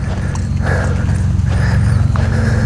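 Horse hooves tap and step in a steady close rhythm during piaffe training in an arena, with a faint snort or whinny mixed in.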